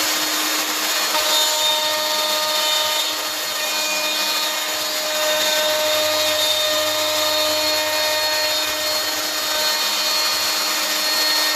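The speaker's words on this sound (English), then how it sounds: "Okay, router plunged all the way to the bottom this time." Plunge router set to full depth cutting a wood part inside a mould during batch production, a steady loud high-pitched whine with tonal harmonics running continuously and evenly throughout, no talk.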